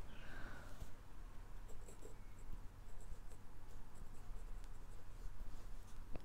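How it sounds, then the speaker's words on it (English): A pen writing Chinese characters on paper, with faint, close scratching strokes and light taps over a low background hum, quiet and without talk. "Follow me to write Vietnam in Chinese characters."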